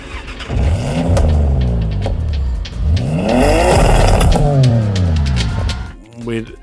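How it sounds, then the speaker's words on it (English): A loud straight-six car engine from a Forza Horizon video game revs twice, its pitch climbing in smooth sweeps before cutting off abruptly. "There's also the sound of an engine, isn't there? It sounds like a straight six."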